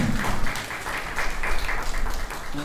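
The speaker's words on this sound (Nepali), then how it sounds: "हामी उहाँलाई ताली बजाएर हामी अगाडि स्वागत गर्नेछौँ" Wedding guests at a Christian church wedding clap to welcome the pastor forward, a dense, steady round of applause that holds through the whole stretch without a break.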